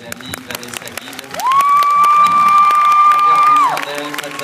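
A crowd at a film premiere applauds and cheers loudly and continuously, with whoops and shouts, while a tone-like whistle or held note rises over the noise in the middle.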